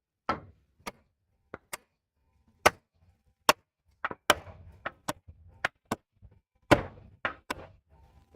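A clearancing hammer strikes the rusty metal of a VW Bug in sharp, loud, irregular blows, roughly fifteen separate bangs spaced unevenly with brief ringing decays and quiet gaps between.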